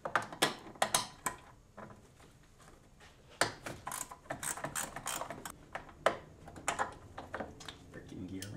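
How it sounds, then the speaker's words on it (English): A ratcheting gear wrench works loose 13 mm bolts on a BMW E46 330i/325i during brake booster replacement, producing bursts of quick clicking ticks separated by short pauses, close and fairly quiet. "I'm just going to remove these two 13 millimeter bolts"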